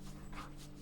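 A dog in the Blue Prince video game pants softly, a faint, brief burst of quick breaths over a low steady game hum with no speech.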